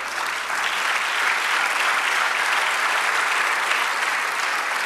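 Church congregation clapping in unison-like continuous applause, a broad steady roar of many hands sustained for several seconds without pause.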